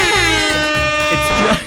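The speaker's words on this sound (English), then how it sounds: "the air horn" Air horn sound effect blasting loud and continuous for nearly two seconds, a single sustained brassy honk that cuts off abruptly at the end.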